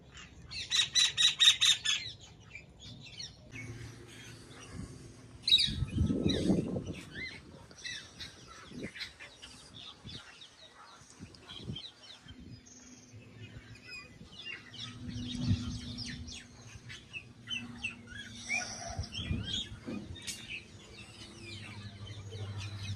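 Birds squawking and clucking, likely fowl, loudest in bursts near the start and around the middle, with a steady murmur of calls and outdoor background between them.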